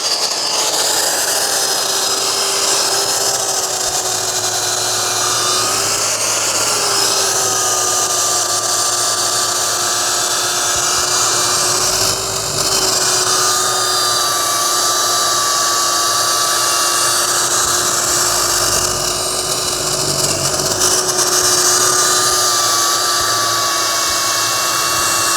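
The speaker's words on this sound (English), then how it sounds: "Let's use the cordless belt sander and see how it does in comparison." Cordless belt sander working a PVC board, dialed up to speed 5: a loud, steady high-pitched whine with a constant grinding hiss, running continuously with slight pitch wobbles and no talking.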